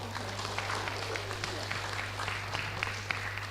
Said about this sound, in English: give applause more boldly